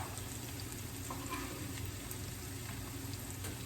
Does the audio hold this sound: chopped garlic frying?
yes